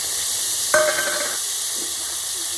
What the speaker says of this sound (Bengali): বাটারের মধ্যে আমি দিয়ে দিলাম পেঁয়াজ কুচি